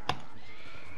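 A horse whinnies once, a brief sharp neigh in a Mount & Blade video game, heard over steady game background noise.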